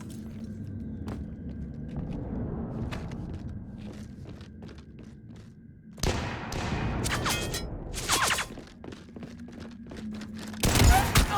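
Gunfire in the video game Mass Effect 3: scattered single shots and thuds at first, then sharp bursts of rapid fire in the second half under a low rumble, with a loud burst near the end.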